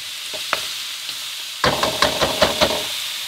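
Strips of chicken cook gently in a pan, a low sizzle at first, then a louder burst of frying with several sharp clatters of stirring from a utensil, close up and with no voices.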